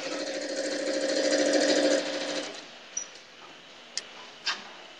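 A sewing machine stitches pastel gingham quilt fabric in a steady, close mechanical whir for about two seconds, then stops, leaving faint clicks and a few small taps.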